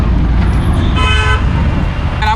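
Heavy Delhi street traffic rumbles loudly and steadily, with several short car horn toots cutting through the din up close, and faint voices in the background.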